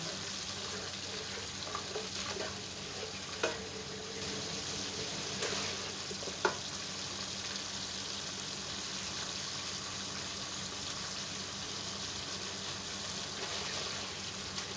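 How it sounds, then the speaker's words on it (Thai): Coconut milk poured a little at a time into a pan of red curry paste for chicken red curry with bamboo shoots and pumpkin, a steady soft sizzle and simmer with a few faint clinks, no talk. "จากนั้นนะคะตามด้วยกะทิค่ะ กะทินี่เราค่อยๆ ใส่ทีละน้อยนะคะ"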